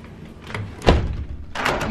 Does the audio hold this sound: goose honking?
no